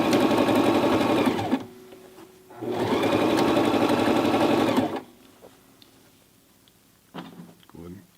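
A Toyota FSG325 sewing machine hems jeans in two loud, steady bursts of stitching, each lasting a couple of seconds, separated by quiet pauses, followed by a few faint handling clicks at the end.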